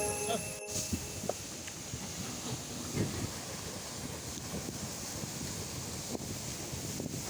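Wind gusting on an open beach at Can-Upao, Jagna, Bohol, a steady broadband rush with occasional buffeting bumps against the microphone and faint low surf underneath.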